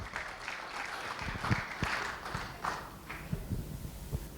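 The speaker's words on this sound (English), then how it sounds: "Yeah, a round of applause." Modest applause from a club audience welcoming a speaker to the stage, a fairly faint patter of clapping with scattered sharper claps, fairly distant.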